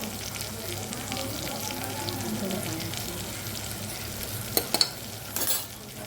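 Chili powder and turmeric being stirred through food in a pan, a continuous soft sizzle with scraping movement, ending in a few louder clatters and a brief burst of hiss, close by.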